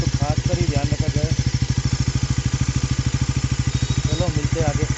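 A new-engine Pulsar NS400z motorcycle idles steadily while warming up, its close, loud engine thumping in a fast, even rhythm with a faint clattery edge, and a voice speaks briefly over it.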